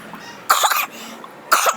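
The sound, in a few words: coughing fit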